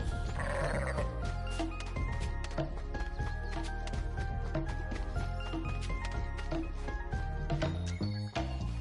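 In the video game Sea of Stars, a goat bleats a few times against continuous game music, with soft jingling mixed in.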